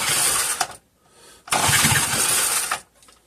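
A 3.5hp Briggs and Stratton small engine, primed through the carburetor throat with the choke on, cranks in two loud, harsh bursts separated by a short pause, trying but failing to catch.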